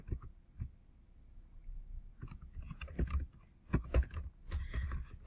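Typing on a computer keyboard while writing an artist statement, irregular bursts of close, soft key clicks separated by short pauses, with no talking.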